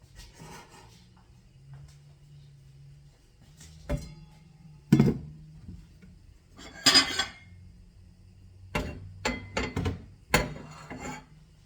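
A pan and cooking utensils handled in a home kitchen, scattered clinks, knocks and scrapes of metal at irregular intervals over a low background hum, close and fairly loud.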